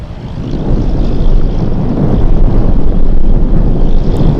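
A Boeing 747 Dreamlifter on approach to Anchorage airport gives off a loud, steady low rumble of jet engines, heavy with wind buffeting on the microphone, growing slightly as it nears.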